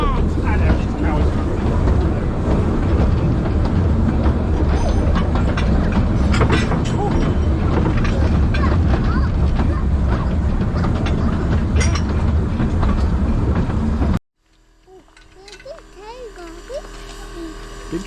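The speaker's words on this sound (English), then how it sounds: "Watch the train turn round." A WW1 steam train at Apedale passes close by with a loud, steady rumble and clatter for most of the clip, then cuts off abruptly to quiet, with children and adults talking nearby.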